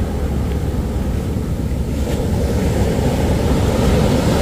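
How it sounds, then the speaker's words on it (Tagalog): Powerful ocean surf pounds the shore at Hampton Beach, a loud, unbroken wash of crashing waves mixed with wind rumble, with no voices. "Mga lakas ng alon yan, biruin nyo yan oh."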